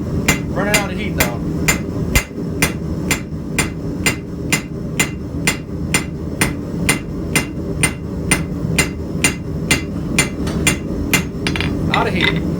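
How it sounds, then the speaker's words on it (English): A blacksmith's hammer strikes hot metal while forging a bevel, steady evenly spaced ringing blows about two per second, loud and close, repeating throughout. "I'm going to forge the bevel here."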